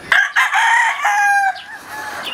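A California White Claret gamefowl rooster of the Principe Line crows once near the microphone, a long bright call that breaks and trails off into a fainter tail.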